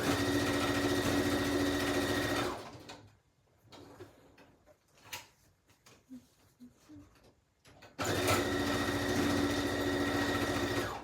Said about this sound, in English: I'm again going to sew down the two sides